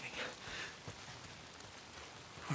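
Rain falls steadily in the video game Days Gone, a faint, even hiss of drops with soft patters and occasional louder taps, heard alone without speech.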